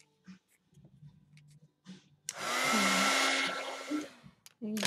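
A hair dryer drying a watercolor painting switches on with a steady loud whir for about two seconds, preceded by soft brush and handling sounds and followed by a brief restart.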